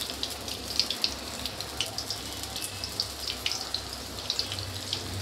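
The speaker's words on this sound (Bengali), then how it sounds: "হালকা গ্যাসে ভাজতে হবে।" Besan-coated brinjal fries in oil in a wok over a low flame, giving an even bed of soft sizzling with frequent small spits and crackles throughout.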